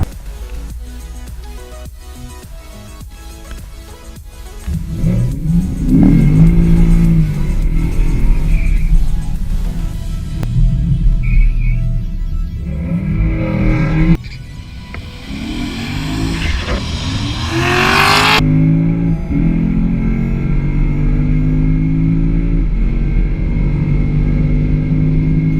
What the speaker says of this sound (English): we're going to find out what quarter-mile times this car is going to lay down with our headers and our intake and everything else stock